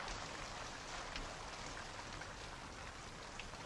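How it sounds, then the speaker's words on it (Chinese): A passing rain shower falls steadily, a soft, even hiss of drops close by and alone, with no voices and no change in strength across the few seconds. "可是阵雨，长不了。"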